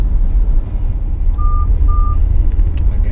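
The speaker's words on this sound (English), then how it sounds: "Yeah, that's your lane departure warning." Two short, clear electronic beeps from a Maserati's lane departure warning sound in quick succession over a steady low road rumble inside the moving car.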